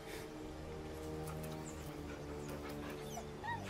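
A dog whimpers while being petted in the Baldur's Gate video game, its soft whines and yips sitting over a steady droning music bed throughout.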